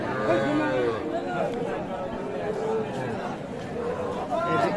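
Bull calves at a crowded cattle market, a few low moos rising over a steady bed of crowd chatter and nearby talking.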